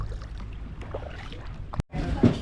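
A rowboat is rowed out of a cave in Ha Long Bay, with soft, steady water and oar movement close by, a brief clunk, then the slosh continuing in the open.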